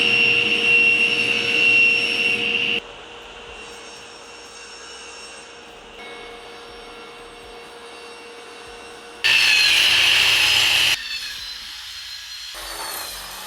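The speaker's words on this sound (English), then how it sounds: "Let's hear a dust collector, then a table saw, and then a miter saw." A dust collector, a table saw and a miter saw run one after another in a workshop, each a loud steady machine drone with sharp high whine, the middle stretch quieter and the final saw bursting in loudest.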